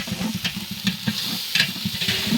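Chicken curry (kori sukka) is stirred and mixed in a pan, with quick rhythmic scraping strokes over a constant close sizzle.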